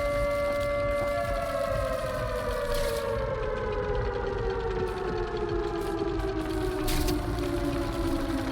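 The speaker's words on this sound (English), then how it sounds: "Every time I hear that siren" A civil defense siren in Watch Dogs: Legion wails steadily and loudly throughout, its tone slowly gliding downward, with no one speaking.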